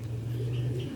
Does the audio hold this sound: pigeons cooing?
yes